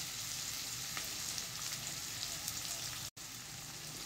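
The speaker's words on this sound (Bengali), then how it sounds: "কিছুক্ষণ একটু ভেজে নিতে হবে পেঁয়াজটাকে।" Onions frying in a pan for a chicken pasta dish give a steady, close sizzle with a dense crackling hiss that stays even throughout and has no talk.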